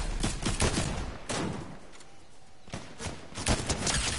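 Fortnite gunfire plays as rapid bursts of shots, a cluster at the start and another near the end with a quieter gap between them, at moderate loudness.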